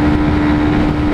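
A Haojue TR 150 motorcycle held at full throttle at top speed, about 112 km/h, giving a loud, steady engine drone with a sustained pitched whine and rushing wind noise close to the microphone.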